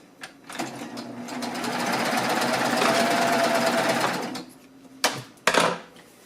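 Close up, a sewing machine stitches a piping join in one steady burst of rapid mechanical chatter lasting a few seconds, followed by a couple of short clicks and knocks as it stops.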